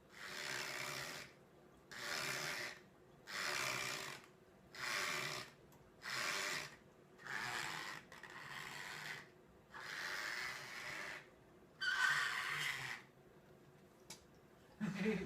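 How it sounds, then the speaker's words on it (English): A squeegee scraping during dry sift work, heard as a series of about ten evenly spaced, second-long rasping strokes with short pauses between, close and fairly quiet. "That was squeegee."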